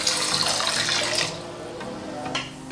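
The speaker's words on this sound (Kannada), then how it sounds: "1 ಲೋಟ ನೀರು ಹಾಕ್ತಾಯಿದ್ದೀನಿ." A glass of water is poured onto soaking lentils (toor, moong and chana dal) for khara kadubu, giving a close, splashing pour that is loudest in the first second and then eases to a softer trickle.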